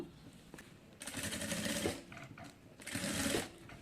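A sewing machine top-stitches along the edge of a neck design, running in two close, steady bursts separated by a brief pause.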